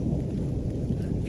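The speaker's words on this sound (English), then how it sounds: "I know you can still hear thunder" A low, continuous rumble of thunder rolls in the background at Black Elk Peak, South Dakota, steady and somewhat distant, with faint rain-like texture.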